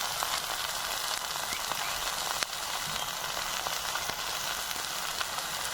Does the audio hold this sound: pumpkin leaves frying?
yes